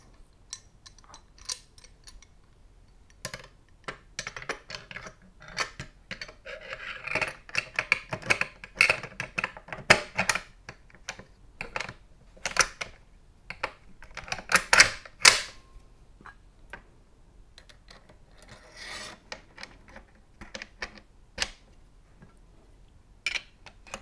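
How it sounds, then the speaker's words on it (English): An AK rifle is reassembled after an Archangel adjustable stock is fitted, with a run of close metallic clicks, snaps and ticks coming in irregular clusters that grow busier toward the middle and end. "Now we just need to reassemble our AK."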